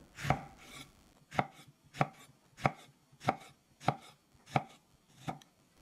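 A knife slices through lemon on a cutting board in a steady series of about nine crisp thunks, evenly spaced and close, with no talking.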